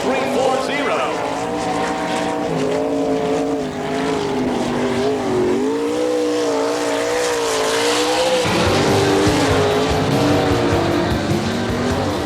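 Race cars roaring together through the first lap at a dirt track during an All Stars sprint event in Eagle, Nebraska, engines loud and continuous with rising and falling pitch as the pack passes, an announcer talking over it.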